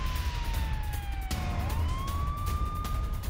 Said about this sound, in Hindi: अचानक तेल अवीव में सायरन की गूंज सुनाई देने पड़ी